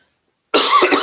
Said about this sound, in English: That coughing is so annoying.